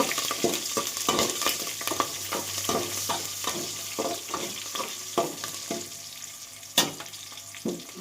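Green and dried red chilies being stirred in a hot frying pan for a stuffed brinjal masala curry, a steady sizzle broken by repeated scraping strokes of the spoon, with one sharper clack near the end.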